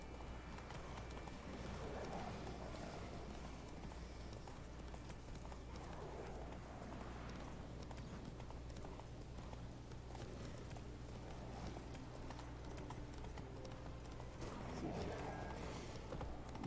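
Horse hooves while riding in Witcher 3, a steady rhythmic clip-clop of galloping hooves over a constant low rumble, moderately loud and continuous, with no clear talk.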